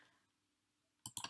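Mouse clicks while selecting the Done button in Mac OS accessibility keyboard settings: three sharp, close clicks in quick succession near the end, after a second of near silence.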